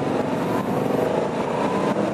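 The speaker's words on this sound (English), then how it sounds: "I love the way this engine sounds" A 2018 Aprilia Dorsoduro 900 motorcycle engine running steadily, a dense, loud, continuous drone close by with a slight rhythmic pulse.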